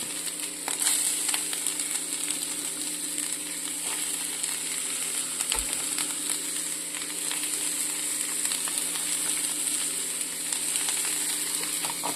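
Onion flower stalks fry in a pan with a dense, continuous, fairly loud sizzle and crackle that holds steady throughout, with no voices.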